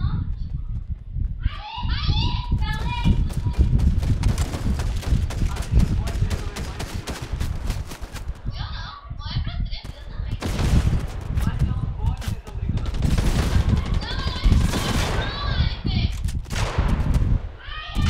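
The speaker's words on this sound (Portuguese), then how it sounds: "É os bots que estão atirando." Repeated gunfire bursts from computer-controlled bots in the Fortnite video game, sharp shots and rapid volleys throughout, with children's voices talking and chattering over the game sounds.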